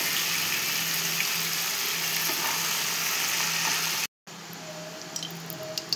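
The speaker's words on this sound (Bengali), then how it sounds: "ওই তেলের মধ্যে আমি ডিমগুলো ভেজে নিচ্ছি। হালকা ভেজে নেব ডিমগুলো।" Steady, dense sizzling of eggs frying lightly in hot oil in a kadai, close and continuous, with a brief dropout near the end before the crackle resumes.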